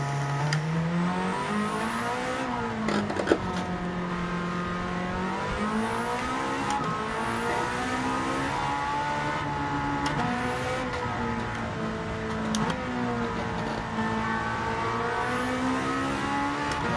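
A race car engine in Gran Turismo 7 revs up through the gears in repeated climbing sweeps, each broken by a gear shift, with a loud, continuous drone and no talking.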